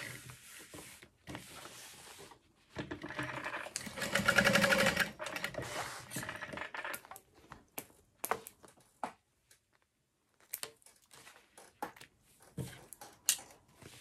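A home sewing machine bastes pieces of a backpack together, whirring in short bursts with one longer steady run, then stopping and starting in quick stitches between pauses and small clicks.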